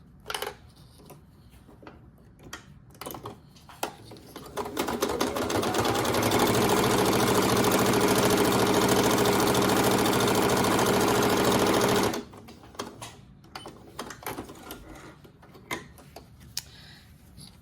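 A sewing machine stitches the side seam of a reversible drawstring bag, a fast rhythmic mechanical rattle that builds up and runs steadily for about six seconds before stopping, with quiet handling noises before and after.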